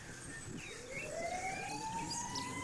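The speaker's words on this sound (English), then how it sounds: "we want to eliminate this ambulance sound in the video" An ambulance siren wails with a rising, sustained tone that carries steadily across the whole stretch, moderately loud against faint background noise with no talking.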